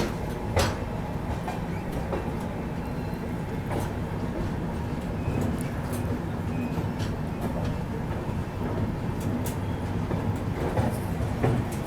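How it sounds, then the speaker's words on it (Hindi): The Andhra Pradesh (AP) Express pulling out of Visakhapatnam railway station, a steady, continuous rumble of rolling carriages with rhythmic wheel clatter and occasional sharper clicks, loud and close with no voices. "AP एक्सप्रेस निकल गई है विशाखापट्टनम रेलवे स्टेशन से।"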